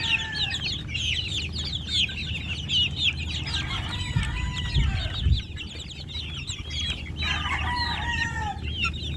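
Young backyard chicks peep in a busy, continuous chorus of high chirps, with lower clucking mixed in. The sound is fairly close and steady throughout, and no one speaks.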